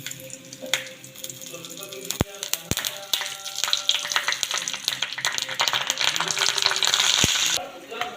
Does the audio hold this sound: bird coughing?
no